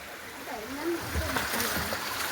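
Water leaks and trickles from an irrigation canal by a village stream, a steady, close rushing flow with faint splashes as voices talk over it.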